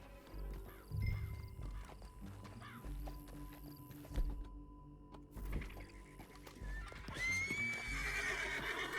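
In Red Dead Redemption 2, a horse's hooves clip-clop in an uneven walking rhythm with creaks and rustles, ending in a loud, drawn-out whinny near the close.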